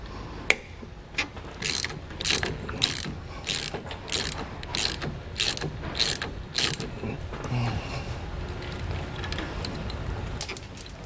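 Vice grips bite onto a sway bar end link nut on a 2008 Winnebago Destination and work it loose, giving a run of sharp metallic clicks and ratcheting snaps in a steady rhythm, with a few scattered clanks afterward.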